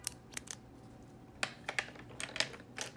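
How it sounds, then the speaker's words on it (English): Crisp clicks from a Pilot S20 ballpoint pen mechanism, several sharp separate snaps spaced unevenly, close up and alone with no talking. "Here's a nice clean click from a Pilot S20."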